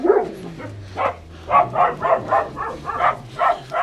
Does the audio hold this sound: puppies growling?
yes